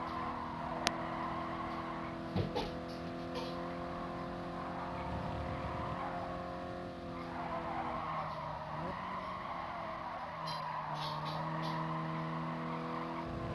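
Race cars in GT Sport, a steady layered engine drone with shifting pitch as cars run through bends, plus a brief squeal or thump early on, continuous and mid-level.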